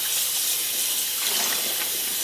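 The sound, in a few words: tap water running while soaking yarn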